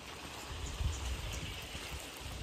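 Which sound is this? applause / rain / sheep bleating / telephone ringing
rain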